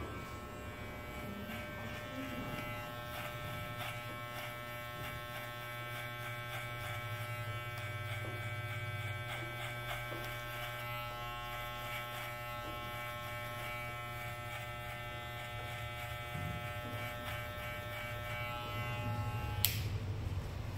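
Electric hair clipper fitted with a 0.5 guard, lever set high, buzzing steadily and close while cutting hair for a side fade, with a brief knock near the end.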